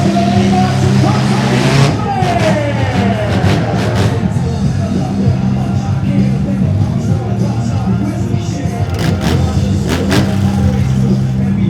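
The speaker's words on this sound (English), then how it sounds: "recovery mini monster trucks coming to the floor right now" Recovery mini monster trucks drive onto an indoor arena floor at a monster truck show in Frederick, Maryland, with engines revving and droning, a crowd murmuring, and an announcer talking over the noise.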